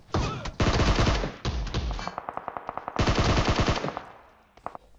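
Rapid bursts of M416 assault rifle fire in PUBG, loud and close, with several sustained automatic sprays separated by short pauses and a few single trailing shots near the end.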